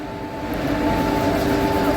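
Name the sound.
MEMU train from Secunderabad to Warangal at Ghatkesar station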